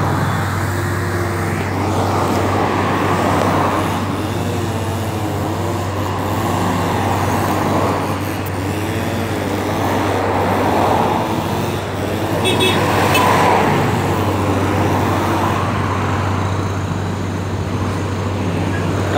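Road traffic passes outside a gate where a truck is being let in, a steady heavy rumble of engines with a constant low drone that swells and fades as vehicles go by.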